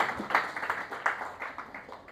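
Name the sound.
congregation applause in church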